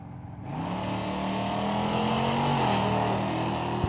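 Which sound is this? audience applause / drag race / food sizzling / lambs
drag race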